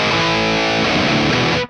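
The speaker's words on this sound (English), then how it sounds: "And it's all analog distortion." A single electric guitar chord through analog distortion from a portable transistor metal rig rings out thick and sustained, then cuts off abruptly.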